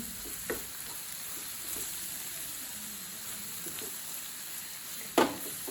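Egg kottu masala sautés in a pan with a soft, quiet hiss, occasional light scrapes and one sharper clank of the utensil near the end.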